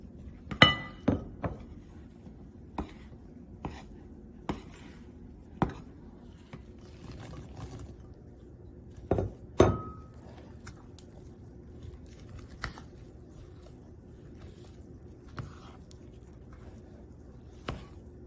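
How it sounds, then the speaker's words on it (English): Fresh cranberries from a whole bag dropping into quick-bread batter in a glass bowl, heard as sharp, scattered clinks and taps, close by and irregular, with quiet gaps between. "what we're going to do is add fresh cranberries to our batter"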